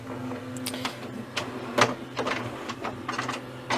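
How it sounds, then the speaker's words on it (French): A printer running idle with nothing to print: a quiet mechanical whir broken by soft clicks and short whooshing pulses, spaced irregularly and close by. "il n'y avait rien à imprimer, hein, mais c'est pour vous dire un petit peu, elle ne fait pas du tout de bruit"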